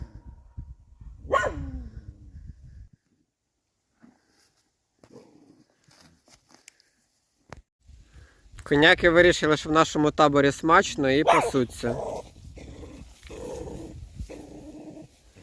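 A dog barks and growls in a rapid burst of loud, close barks after a quiet stretch, with a person speaking around it.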